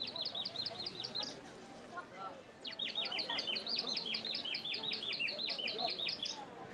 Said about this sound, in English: It sounds like a bird whistle.